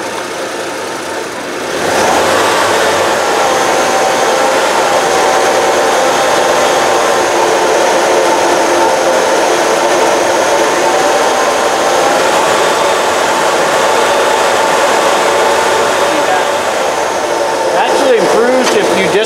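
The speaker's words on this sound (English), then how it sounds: "Show you what this is actually running like under light throttle. You can tell it's already got a rough idle." A Ford pickup engine runs rough under light throttle and at a rough idle, a steady loud mid-range engine drone lasting the whole stretch with no talk over it.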